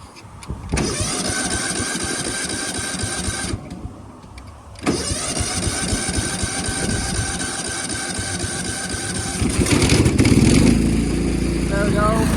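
A 1999 Cub Cadet HDS 2135 riding lawnmower engine idles with a steady, loud drone close by. It briefly drops off, then resumes and roughens near the end, and someone speaks over it.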